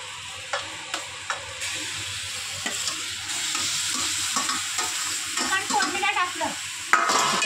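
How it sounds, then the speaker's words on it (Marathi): Chicken pieces hit a hot tempering for spicy Konkani chicken, producing a close, dense sizzle with repeated clinks of a spoon against the pot and bursts of spattering toward the end. "चिकन टाकले आईने फोडणीला"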